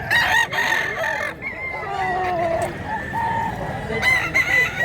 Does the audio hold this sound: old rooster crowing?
yes